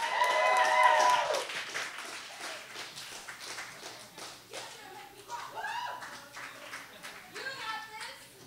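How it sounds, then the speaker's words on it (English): A small slam poetry audience applauds, with scattered, fairly faint handclaps and some whoops coming and going in a quiet room while voices carry over them. "please give a huge round of applause,"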